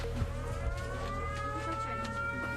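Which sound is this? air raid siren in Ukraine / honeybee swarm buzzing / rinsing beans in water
air raid siren in Ukraine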